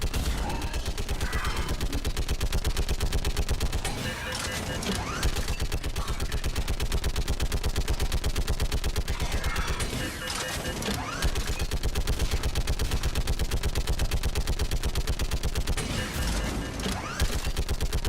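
Dense, sustained gunfire from a Mass Effect 3 battle against hostiles on a perimeter goes on for about eighteen seconds. Automatic fire is layered with crashes and booming impacts, with a few louder surges along the way.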